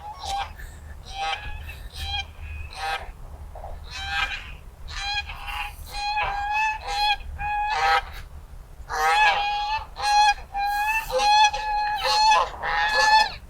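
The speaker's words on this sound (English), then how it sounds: "we have a couple of geese up in front of us here." A couple of geese honk noisily close by at a small water park, with repeated harsh calls that come in bursts and overlap, growing busier toward the end.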